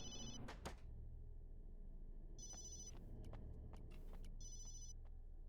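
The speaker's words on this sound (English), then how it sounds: "That must be Ashley calling me. I should have turned off my cell phone." A cell phone rings in the Resident Evil 7 video game, three short electronic trill bursts spaced a couple of seconds apart, faint against a low rumbling ambient background with occasional clicks and thumps.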